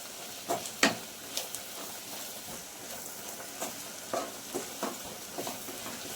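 A carrot and capsicum fry is stirred in a pan, a steady close sizzle broken by scattered scraping stirs, with no talk.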